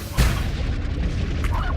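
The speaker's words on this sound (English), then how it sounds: "By shooting the plort of one at another type." A plort fired from a gun in a ranch video game, heard as one sudden booming thump near the start, followed by a dense, steady rumble of game noise with no speech.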